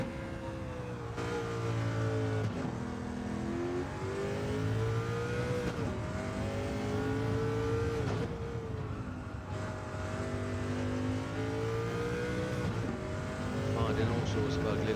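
In Gran Turismo 7, a 1989 Sauber Mercedes C9 race car's engine repeatedly revs up and shifts through gears at Willow Springs, a continuous loud roar with rising and falling pitch, while someone talks over it.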